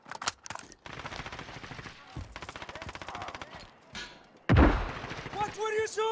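Gunfire in Call of Duty: Modern Warfare multiplayer: rapid automatic bursts and a heavy blast, loud and close, with game voice callouts heard between and after the shooting.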